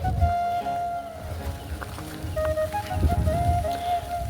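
Rain patters steadily on a surface nearby, with a faint tonal hum and scattered heavier drops, no one speaking.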